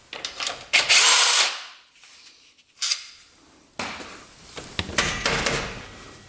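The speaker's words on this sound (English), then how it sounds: "Last bolt coming off here." A power drill spins out the last bolt on a CFMOTO UTV in short, loud whirring bursts, mixed with metallic clanks and rattles from close by, with quiet gaps in between.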